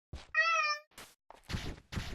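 A cat named Marty lets out a single clear, close meow, followed by soft thumps and rustling movement, with no talk heard.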